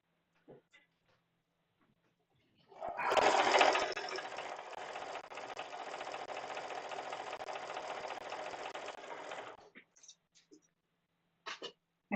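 Sewing machine piecing a jelly roll quilt top, running in one steady continuous burst of about seven seconds, near and clear, with faint small clicks before and after.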